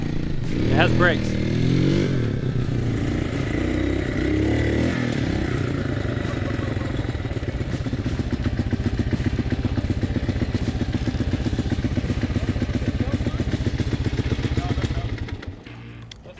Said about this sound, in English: So other than the horrendous rattle in the exhaust